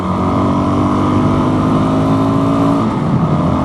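A Suzuki DRZ400 motorcycle at full throttle in fifth gear, its engine a loud, steady, close drone that climbs slightly in pitch as it pulls, with constant wind roar mixed in.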